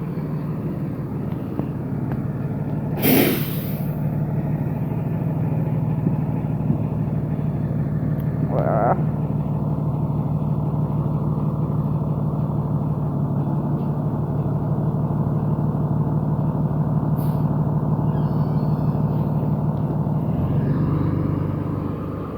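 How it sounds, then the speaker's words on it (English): A school bus rolls slowly past a house with a steady, loud low engine rumble that holds for a long stretch. A few brief sharp noises break in over it before it fades at the end. "The bus driver's just driving slow because Devin wasn't out,"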